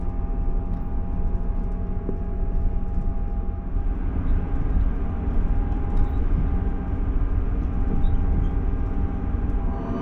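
A ScotRail train runs on the Far North line near Georgemas Junction, heading for Wick, giving a steady, continuous low rumble and hum of wheels and engine throughout, close and even in level, with no talk.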